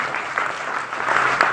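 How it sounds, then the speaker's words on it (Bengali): Audience applause for a speaker as his photo is shown, a steady wash of many hands clapping throughout, moderately loud with no voices on top. "ওনার ছবি আসার সাথে সাথে ওনার জন্য একটা করতালি দিবেন"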